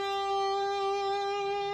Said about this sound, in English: I have a little bit of delay and a little bit of reverb on this